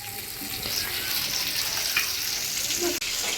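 Fish fry sizzling steadily in a hot pan, a constant crackling hiss with occasional scraping of a spatula turning the pieces, fairly quiet and without talk.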